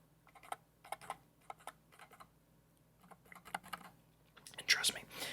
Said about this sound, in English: here I am now tapping on a keyboard in front of a mic